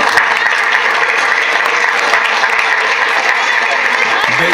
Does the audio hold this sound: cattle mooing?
no